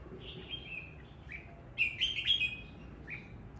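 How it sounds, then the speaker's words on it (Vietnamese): A songbird sings loud, clear chirping phrases outdoors at moderate distance, a few short bursts over faint background hiss without voices. "Hót giọng của nó to ấy."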